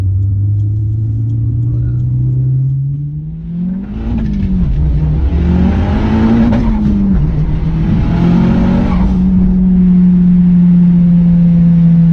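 A Mitsubishi Galant VR-4 launching, its engine rising from a steady idle-like drone into a hard, climbing rev with rumbling, then holding a loud sustained tone close by.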